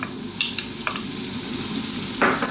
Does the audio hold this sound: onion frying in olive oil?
yes